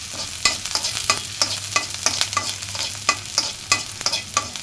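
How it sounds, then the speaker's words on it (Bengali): Chopped onions fry in mustard oil in a wok for mutton curry, with a steady sizzle and loud, rhythmic stirring scrapes close by and no voices. "পেঁয়াজগুলো কিছুক্ষণ ভেজে হালকা ব্রাউন কালার করে নেব।"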